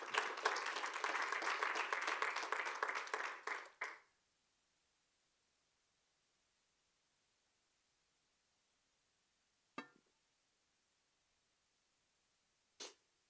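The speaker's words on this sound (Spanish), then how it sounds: "Dale un aplauso al Señor si puede" Applause from a church congregation, a dense burst of many hands clapping for about four seconds before cutting off into near silence, followed by two isolated faint thumps.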